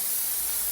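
Aerosol hair spray hisses in one steady, continuous burst onto hair, close and fairly quiet, with no pause.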